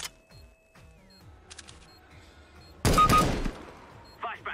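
Gunfire in the video game CS:GO, a loud close burst of shots in the middle of the moment with a further quick shot near the end, amid quieter game sounds.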